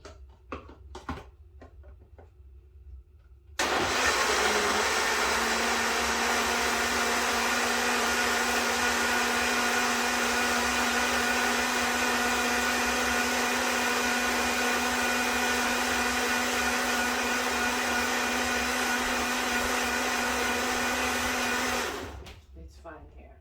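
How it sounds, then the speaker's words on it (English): A blender blending fruit starts abruptly and runs loud and steady for many seconds, a constant whirring drone, then cuts off near the end. "So I'm just going to place it in the blender now."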